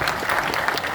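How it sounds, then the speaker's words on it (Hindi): A crowd claps loudly and continuously at an LIC agents' meeting, dense close applause filling the brief moment. "जोरदार तालियां हो जाए"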